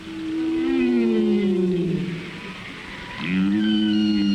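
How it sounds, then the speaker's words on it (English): Humpback whale song from the sea: long, loud moaning tonal calls that sweep downward and then rise again, with a brief dip between phrases and no talk. "The best-known sound from the sea is the song of the humpback whale."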